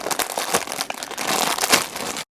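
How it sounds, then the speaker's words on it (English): A plastic bag is opened and crinkled while a leather Apple Watch band is pulled out of its packaging, giving close, steady crackling and rustling that runs without a break for about two seconds. "I'm going to go ahead and open the plastic bag that's in here and pull it out."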